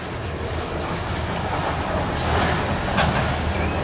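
A loaded CSX grain freight train led by a Ferromex SD70ACE locomotive rumbles steadily past up close, with continuous rolling wheel noise and clatter from the cars.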